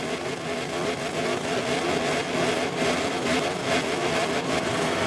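MotoGP 24 video game race start with motorcycle engines at full throttle, a dense, steady roar of revving engines filling the whole stretch with no letup.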